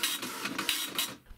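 A 9-pin dot matrix printer driven from a ZX Spectrum prints in rapid buzzing bursts, about five rasping passes in quick succession, close and loud, ending in a brief pause.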